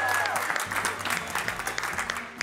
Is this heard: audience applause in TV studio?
yes